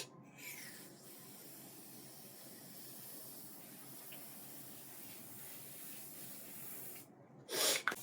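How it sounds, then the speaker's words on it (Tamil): Setting spray misted lightly onto one side of a hairstyle, a soft continuous hiss that is quiet and steady for several seconds, ending in a brief louder rustle. "அந்த சைடில் மட்டும் லைட்டாக ஸ்ப்ரே பண்ணிக்கோங்க"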